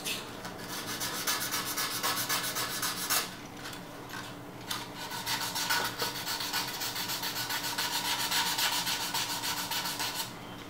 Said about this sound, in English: take sandpaper, keep it around the fevistick and just rub it and it will become smooth